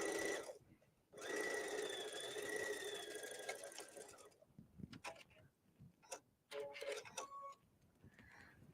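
A sewing machine stitches a cardigan in a steady, close whirring run of a few seconds, then stops, followed by scattered clicks, handling noises and a couple of short bursts.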